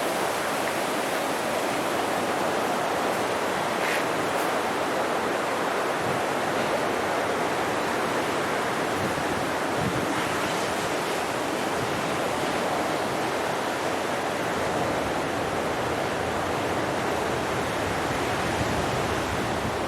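Continuous roar of ocean surf breaking at the Banzai Pipeline on Oahu's North Shore, a broad steady wash of crashing waves heard close and loud with no talk over it.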